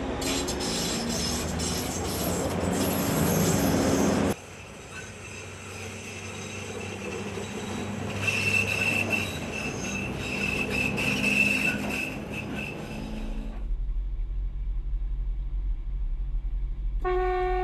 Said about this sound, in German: Nach Durchquerung des Isartunnels fährt der Zug über den Isarviadukt.